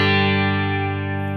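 A PRS Vela electric guitar with its pickup coil split lets one chord ring out alone, a steady clear tone slowly fading over a second and a half.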